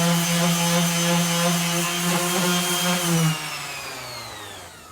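A power sander grinds body filler off a Jeep Wrangler, a steady loud whirring hum that winds down and fades as the tool is switched off.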